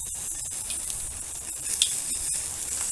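An artichoke chars on a hot grill with a constant bright sizzling hiss and small crackles, close and fairly loud, with no one talking.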